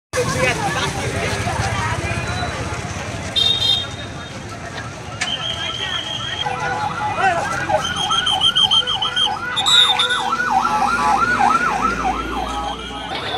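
A fire engine's wailing siren cycles rapidly up and down in the second half, fairly close, at a fire in Uttara, Dhaka, over crowd noise and an excited voice talking.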